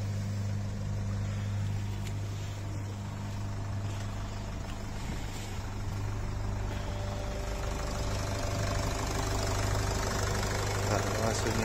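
A Nissan X-Trail 2.0 dCi diesel idles with a knocking piston, a steady low drone with a continuous fine rhythmic clatter running evenly throughout, recorded close to the engine.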